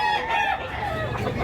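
A stag rooster crows once, near and clear, in a bustling Cebu chicken market, its call stretching across the whole moment amid background murmur.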